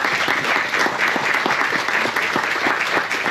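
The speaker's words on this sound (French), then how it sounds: "on l'applaudit" An audience at a live stage show claps steadily and densely for the whole stretch, a full even applause without pauses.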